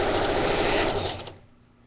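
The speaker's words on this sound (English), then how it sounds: "continue on stitching, and then make sure to backstitch too" A sewing machine stitches doll bedding fabric with a steady, close, high-pitched whirring drone that slows and winds down to a stop near the end.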